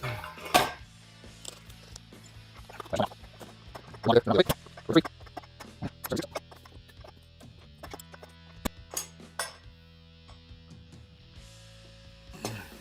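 Steel tire spoon prying a worn-in tire off a dirt bike rim on a 2004 Honda CR250: scattered metallic clinks and scrapes, several sharp knocks clustered together, close up, with a voice speaking intermittently.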